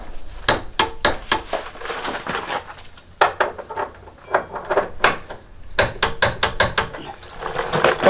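Torque wrench checking main body-lift bolts at 50 pounds on a Jeep YJ, giving a series of sharp metallic clicks and ratchet snaps in clustered bursts, close and fairly loud, with no talking.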